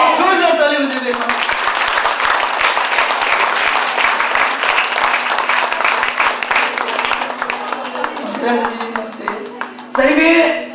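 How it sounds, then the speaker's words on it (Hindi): A large audience claps loudly and continuously for several seconds, a dense wash of applause that fades near the end as a voice begins speaking over it. "जोरदार ताली बजा देना।"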